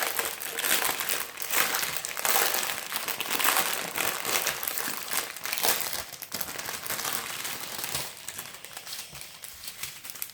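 Crinkly plastic wrapping on a diamond painting kit crackles and crumples loudly and continuously as it is pulled open up close, with bursts of sharper rustling throughout.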